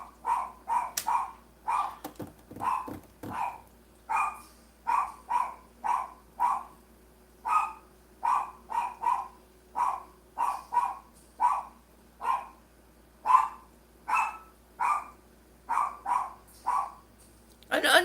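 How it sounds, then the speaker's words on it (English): A dog barks repeatedly indoors, sharp single barks in an irregular steady rhythm, loud and close, with a few clattering knocks early on. "Oh my gosh, here comes the dog."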